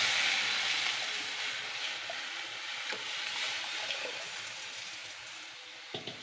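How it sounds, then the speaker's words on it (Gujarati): Curry leaves and chilies hit hot oil for a kadhi tempering, a loud close hiss that gradually settles into a steady sizzle, with a few light clinks near the end. "વઘાર જોઈ શકો છો."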